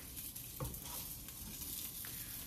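Rice paper omelette sizzles steadily in a hot pan while a small spatula flips and scrapes it, adding a few soft scraping bursts over the constant frying hiss.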